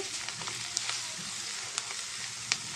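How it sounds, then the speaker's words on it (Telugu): Carrot and cabbage frying in a pan for egg fried rice, a soft hissing sizzle with a few light stirring taps, close and steady. "బాగా ఫ్రై అవ్వాలి ఫ్రెండ్స్ ఇవి బాగా ఫ్రై అయితేనే మనకి టేస్ట్ బాగుంటుందండి"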